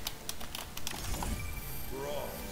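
Clicky computer keyboard typing, a quick run of keystrokes near the microphone that fades out, with voices chatting over it during an online Overwatch session.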